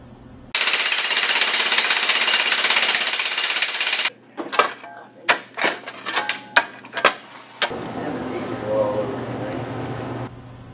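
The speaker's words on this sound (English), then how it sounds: "start breaking up concrete" A jackhammer breaks up a concrete floor where a commercial mop sink was removed, loud and continuous at first, then a series of sharp irregular bursts and clatter, with a duller hammering running at the end.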